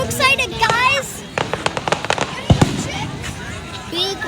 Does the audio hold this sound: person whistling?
no